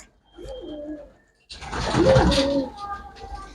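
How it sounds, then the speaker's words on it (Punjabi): A pet pigeon near a cage gives a short low coo, then after a pause a longer, louder, throaty cooing phrase, close and clear against a quiet background. "ਲਓ ਬਾਈ ਜੀ ਦੇਖੋ ਬੜਾ ਪਿਆਰਾ ਕਬੂਤਰ ਹੈ"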